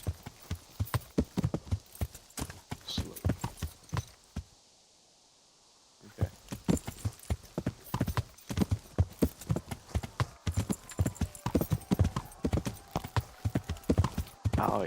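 Horses walking in the video game Kingdom Come Deliverance 2, a steady clip-clop of hooves close by with a short silent gap partway through, along with faint snorts or whinnies.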